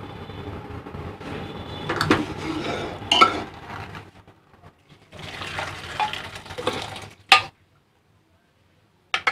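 Cooked chickpeas (chole) tipped into a kadhai in a home kitchen: close, wet scraping and stirring with spoon clinks, a few sharp metal knocks, then a pause and a final clatter.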